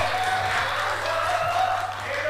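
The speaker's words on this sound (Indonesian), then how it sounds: "Tepuk tangan dulu tuh." Applause from the crowd at a debate between candidates for chair of the Bogor City journalists' association: a continuous wash of clapping from many people under a steady hum.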